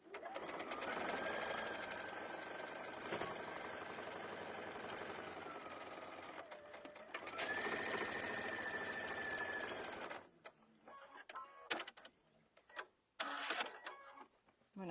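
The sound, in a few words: sewing machine stitching a fabric pouch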